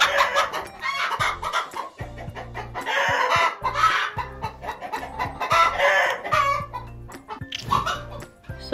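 Chickens in a farm coop keep up a busy, loud chorus of close clucks and squawks, with a rooster's crow mixed in and constant overlapping calls throughout.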